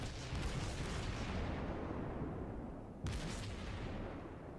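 Naval gunfire in World of Warships as a Kuma cruiser battles, heard as a continuous dense rumble of booms with a sharp new blast about three seconds in, distant and muffled, with no talking.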